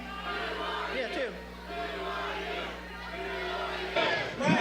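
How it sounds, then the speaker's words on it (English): A crowd at a grandstanding public event yells and chants loudly in rhythmic waves, voices overlapping in a sustained roar with a sharper surge of shouting near the end. "This is the time to grandstand, and the crowd is screaming"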